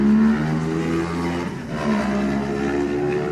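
A racing motorcycle in the Manx Grand Prix Lightweight race at the Classic TT pulls away from the start line, its engine revving loud and steady with rising pitch throughout, close by.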